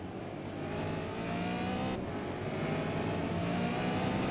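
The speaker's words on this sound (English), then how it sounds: "as they go back into that chicane once again, all decelerating" Several race car engines roar together nearby, decelerating into a chicane at Donington, a dense layered drone with shifting pitches as they ease off, steady and loud throughout.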